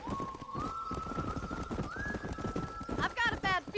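Horse galloping in Red Dead Redemption, a rapid, steady clip-clop of hooves under a rising whistling tone, ending in a loud whinny-like burst, with speech over it.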